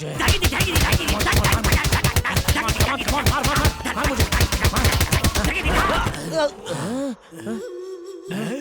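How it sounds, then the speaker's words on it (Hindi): Vegetables are chopped rapidly with a knife in a film scene, dense fast strokes rattling out for about six seconds before giving way to brief vocal sounds. "जल्दी जल्दी सब्जी काट रहे"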